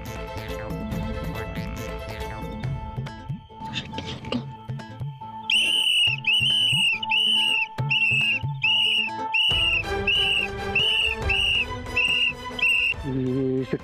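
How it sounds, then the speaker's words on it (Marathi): Sharp whistles are blown repeatedly in a fast, rhythmic series of loud bursts, coming after a stretch of voices and background music. "शिट्ट्या कुठं मारतात."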